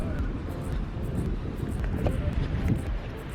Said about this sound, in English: it's really windy and quite miserable